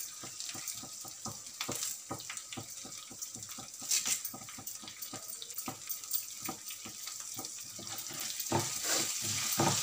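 Curry leaves hit hot oil while tempering for lemon rice, a busy run of sharp crackles and spits over a steady hiss, close and fairly loud.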